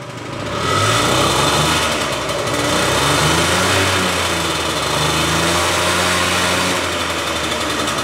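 A Nissan Terrano 2 engine runs close by, a loud, rough idle whose pitch wavers and rises in a few short revs, steady throughout with no voices.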